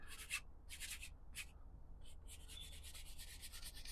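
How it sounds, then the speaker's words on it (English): A paintbrush scrubs paint onto canvas for a landscape painting, giving soft, close, rhythmic bristle-scratching bursts that come in short strokes, pause, then turn into a steadier continuous rubbing. "Just scrubbing on."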